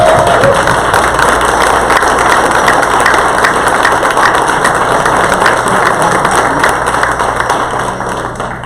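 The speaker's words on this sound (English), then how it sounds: "please stand up and cheer for Evan McMahon." A convention crowd cheering for a newly elected chair, a dense continuous roar of applause, clapping and voices, loud and steady throughout before easing slightly at the end.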